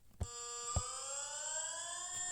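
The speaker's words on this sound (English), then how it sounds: "Siren-like tone? That is not a siren-like tone. That's a death-like tone." Emergency Alert System alarm tone: a steady multi-tone electronic drone, loud and alone, opening with two sharp clicks before the sustained harmonic chord holds for a couple of seconds.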